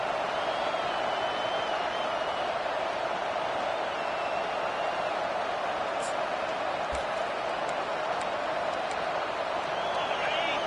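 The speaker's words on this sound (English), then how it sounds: "Listen to this crowd just shaking the girders of this place, trying to help their defense" Huge football stadium crowd roaring for the LSU defense, a dense, loud, sustained wall of cheering noise with no breaks, distant-sounding and enveloping.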